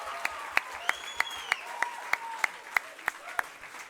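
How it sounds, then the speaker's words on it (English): Applause at an election results event, heard as sharp, evenly spaced claps repeating about three times a second, with faint tonal whistles or voices drifting underneath. "Please give yourselves a huge round of applause."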